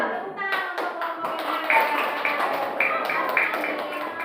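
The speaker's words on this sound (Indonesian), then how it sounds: "Tepuk tangan untuk kelompok" Students in a classroom clap for a group, a steady patter of hand claps from several children close by, with a teacher's voice speaking over it.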